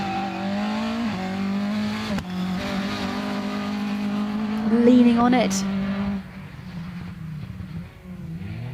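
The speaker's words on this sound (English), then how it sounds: "Car number 6 is away." A rally car pulls away from the start line, its engine droning loudly and climbing through the gears, the revs rising and dropping before fading off, with a commentator talking over it.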